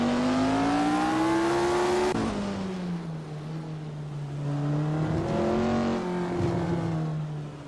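A classic 1962 Porsche 804 and other race cars accelerating at Tsukuba short track in a racing game, with engines revving up through gears in rising whines, loud and close, then shifting and climbing again.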